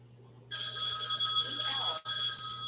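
A telephone rings with a steady electronic tone that starts sharply, holds loud and close, then cuts out briefly before ringing again, over a faint background hum.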